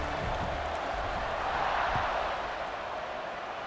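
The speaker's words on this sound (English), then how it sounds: "this crowd is buzzing after that last score" Stadium crowd in a football video game buzzes as a steady, broad roar throughout, with faint thumps and swells underneath.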